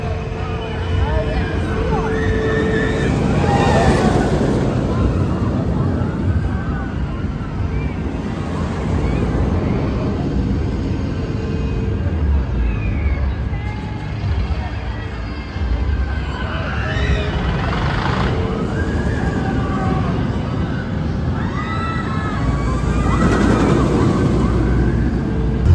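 The Hyperia roller coaster at Thorpe Park at sunset: steady loud wind rush and track rumble, with surges where riders' screams and babble rise, at about 4, 17 and 24 seconds.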